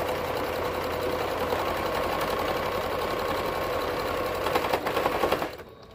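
Serger stitching the binding on a toddler hoodie, a continuous fast mechanical whir at steady speed, close and loud, that slows and stops near the end.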